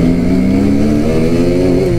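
A 300 cc motorcycle engine revving loudly and steadily up close at the start of an off-road ride, its pitch rising slightly toward the end.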